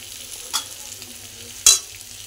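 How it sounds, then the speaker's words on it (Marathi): Chili, cumin and coriander powder roast with vegetables in a pan, a low steady sizzle under two sharp stirring clanks of a spoon against the pan. "आणि सर्व आता एकत्र छान असं भाजून घ्यायचं."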